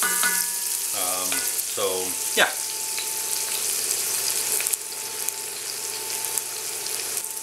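Onions for Greek stifado fry and brown in a pan with a steady close sizzle and crackle, broken early by a few clinks and stirring scrapes, while a voice briefly speaks.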